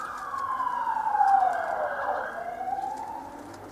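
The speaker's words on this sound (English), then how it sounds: "I've got the police siren for you to listen to." A police siren wails past in Christchurch, New Zealand, its pitch sweeping down and then rising again, moderately loud over faint road noise.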